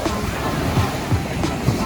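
Waves washing onto Jomtien Beach in Pattaya, a steady broad surf wash with soft low surges and some wind rumble on the microphone, heard close and continuous.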